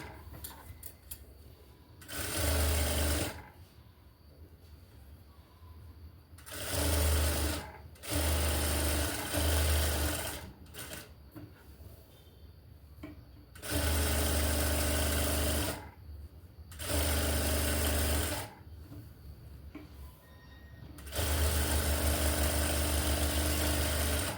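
A sewing machine stitches the lining of a designer blouse in repeated loud bursts, each running a second or two with short quiet pauses between, and nobody speaks.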